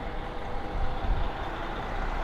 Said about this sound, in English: Tour buses,